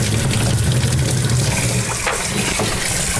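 Aquarium items are rinsed under a loudly running tap, a steady close gush of water splashing without a break.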